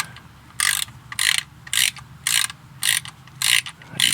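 A ratchet clicks in seven even bursts as transmission pan bolts on a 2010 Ford Fusion are snugged by hand without a torque wrench, each burst loud and close with short pauses between; no talking.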